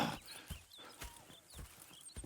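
Horses in Red Dead Redemption 2 clop along at a walk, hooves striking in an uneven rhythm at moderate distance, with faint ambient chirps above.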